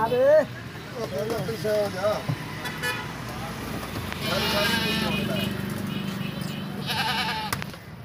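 Goats at a goat farm in Multan bleat intermittently, mixed with vehicle horn toots and nearby talking.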